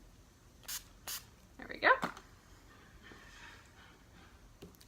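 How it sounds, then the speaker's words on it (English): NYX Finish Matte setting spray misted from a pump bottle in a few short, close hisses, with a brief voice speaking in between. "I'm gonna spray it with some setting spray. I'm gonna use this NYX Finish Matte."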